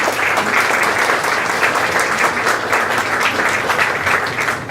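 Audience at a cultural event in a library clapping warmly, a dense sustained round of applause from a seated crowd, steady and fairly loud for the whole stretch before tapering slightly at the end.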